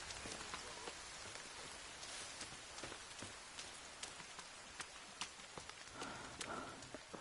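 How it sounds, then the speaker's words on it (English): Steady rain patters in the survival game The Forest, a dense hiss of drops broken by faint scattered taps, heard alone with no voices. "It's cold, raining."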